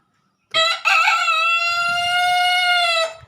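A rooster lets out one long, loud crow close by. The clear call rings for about two and a half seconds after a brief quiet start.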